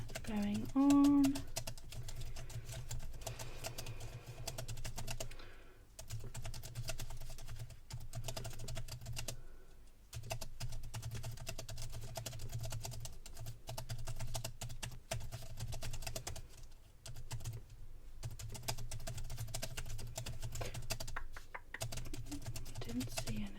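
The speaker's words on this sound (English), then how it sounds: "I'm just going to type up a couple of notes here, just to mark about what's been going on." Soft, close keyboard tapping runs in irregular bursts as notes are typed on a computer, with quiet talk over part of it.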